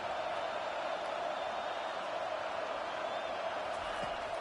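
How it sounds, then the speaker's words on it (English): Stadium crowd in the NCAA 25 college football video game, a steady dense roar backing a defense on third down, loud and constant throughout with no clear swells. "Decibels rising as the crowd gets behind this defense on third down."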